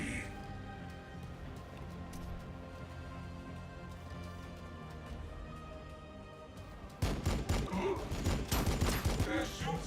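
Enemy gunfire in Warhammer 40K Battlesector, a low battle rumble that erupts into loud rapid bursts of shots and impacts in the final few seconds.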